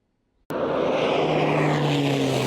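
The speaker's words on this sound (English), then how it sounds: "This plane is one of the key firefighting tools as crews battle a large canyon fire." A firefighting propeller plane flies over a deep, steep canyon wildfire in north-central Nebraska, its engine roar bursting in suddenly and loud, then droning steadily with a low sustained hum.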